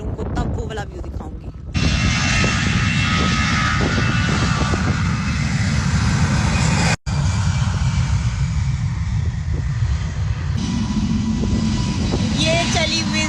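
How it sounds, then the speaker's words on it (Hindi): A Wizz Air airplane taking off from an airport runway gives a loud, sustained jet-engine roar with broad rumbling noise that stays close and powerful throughout. "ये चली विज़ एयर, उड़ गया।"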